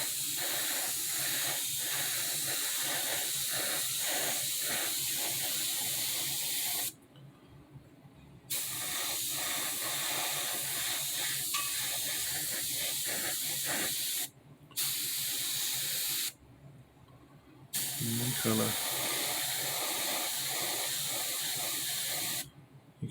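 Repeated bursts of aerosol spray paint hissing onto a model RX-7 car, several long sprays separated by short pauses, close and steady.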